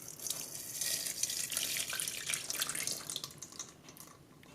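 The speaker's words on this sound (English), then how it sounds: "pour in the rest of the butter" Brown butter pours in a steady, faintly gurgling stream into a bowl of chocolate chip cookie dough, a soft close liquid splash that tapers off near the end.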